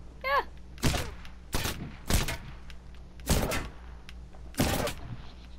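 Video game gunfire comes as five loud, sharp shots spaced about a second apart, each with a short echoing tail over a low background hum.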